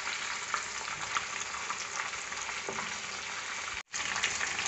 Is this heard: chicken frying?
yes